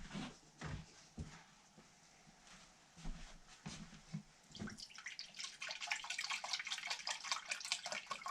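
About five cups of water are poured into a pot for boiling. A few quiet clunks and knocks come first, then a steady, close splashing pour fills the last few seconds.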